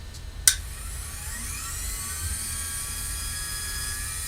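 A cresting jig motor spins an arrow shaft, starting with a click and then holding a steady high-pitched whine with a faint rising tone over a low hum.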